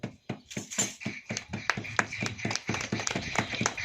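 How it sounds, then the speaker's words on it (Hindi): Rhythmic, sharp hand claps from a church congregation during a Hindi sermon, beating in a quick, regular pulse, fairly close and crisp, with no talking. "ताली बजाएं"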